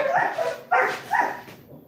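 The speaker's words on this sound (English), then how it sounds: "This is a six-month-old puppy, and he's bigger than most of the dogs that I saw today in Gettysburg." A six-month-old puppy gives three short, bright barks in quick succession, close and fairly loud, with a whiny yip quality.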